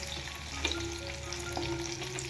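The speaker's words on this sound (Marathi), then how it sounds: "इथे बघा आपला लसूण पण चांगला तळलेला आहे बघा" Garlic fries in hot oil in a pan for a home-cooked village-style gram-greens dish, a steady close sizzle running throughout with a faint clink or two, no talking.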